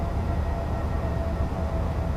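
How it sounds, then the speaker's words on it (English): Simulated DB BR 101 electric locomotive hauling an express between Bremen and Oldenburg, wheels slipping, delivers a steady loud rumble with dense low-end roar and faint whine throughout, no voices. "train's having to react to the wheel slipping shenanigans in real time"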